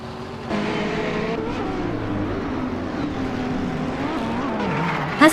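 BMW M6 GTL race cars in a racing video game, a steady, loud engine roar whose pitch rises and falls through gear changes, with a brief sharp squeal right at the end and no talking.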